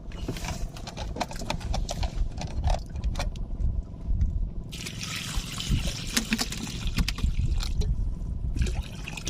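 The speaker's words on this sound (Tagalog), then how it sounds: "Lagyan natin ng tubig." Water trickles and splashes into a pot for fish sinigang on an improvised stove, a steady liquid pour with clattering handling noises.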